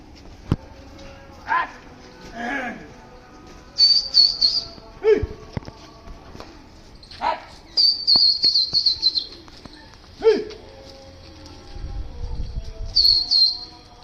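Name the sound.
flock of pigeons flying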